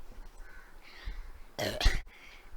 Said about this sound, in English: Oh, I drank the Pepsi and I got burp.